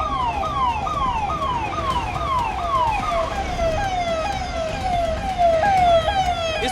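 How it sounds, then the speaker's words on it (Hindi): Several ambulance sirens wailing in repeated rising-falling sweeps as they arrive one after another at the central hospital at the Prayagraj Maha Kumbh after a stampede, loud and close over road traffic. "यहाँ पर एक के बाद एक कई एम्बुलेंस पहुँच रही हैं"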